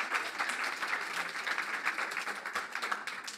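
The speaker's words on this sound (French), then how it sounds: "Nous avons avec nous pour cet avant-dernier créneau Flora Mikula que je vous demande d'applaudir s'il vous plaît." Audience applause greeting the arrival of chef Flora Mikula on stage at the Toques et Porcelaine event, a steady, dense crackle of many hands clapping throughout, moderately loud and unbroken.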